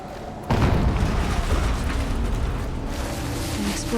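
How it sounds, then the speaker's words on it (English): A loud explosion in the video game Horizon Zero Dawn bursts in half a second in, then rolls on as a sustained, heavy rumble to the end with no fading. "An explosion."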